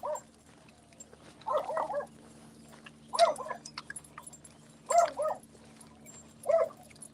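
Dog on a walk giving short, breathy whimpers and yips in spaced bursts, about five clusters over several seconds, moderately close against a quiet steady hum.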